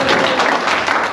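Applause from the crowd at a 2023 YouTube content creators' meet-up in Bangladesh, with dense, steady clapping at close range that fills the whole moment before trailing off at the end.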